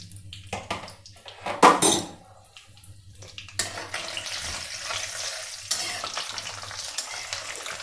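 Cumin and mustard seeds splutter and crackle in hot oil, with a loud burst of popping and clinking of a pan and spoon before a steady sizzle carries on, no talking heard.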